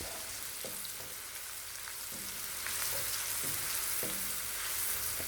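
Alexandrian-style liver sizzles steadily in a hot pan, with periodic scraping stirs every second or so; close and continuous frying, no talking.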